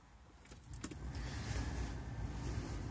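Vauxhall Vivaro van switched on, a few quiet clicks and a brief whir followed by a low, steady electrical hum and faint rumble that fills the rest.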